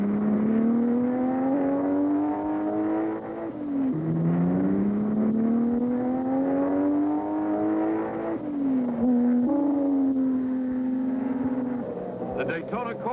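Racing engines at the 1964 Sebring 12 Hours, including the factory Alfa Romeo GT entries, drone loudly and continuously, their pitch rising through the gears and dipping at each shift, repeating across several upshifts.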